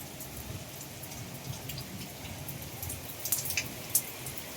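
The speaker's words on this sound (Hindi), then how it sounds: "अब बारिश ने थोड़ी हवा को थाम लिया है।" Heavy rain falls on an August night during a storm, a steady, close hiss of drops with a few sharper splashes and drips standing out near the end.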